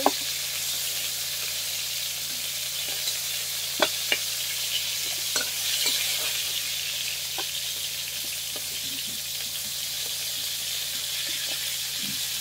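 Pieces of pointed gourd and potato frying in oil in a pan, giving a continuous close sizzle with occasional faint pops and ticks throughout.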